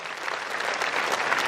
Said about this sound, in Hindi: ताली बजाओ इस बच्चे के लिए जोरदार